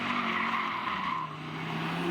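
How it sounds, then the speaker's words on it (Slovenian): An Audi RS3 sports car drifting in controlled oversteer, with a steady, sustained tire squeal and engine drone held at moderate distance with no break. "Kontrolirano drsenje zadka ali po domače driftanje."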